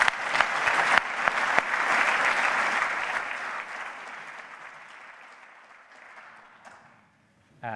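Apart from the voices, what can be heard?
audience applause for the area chairs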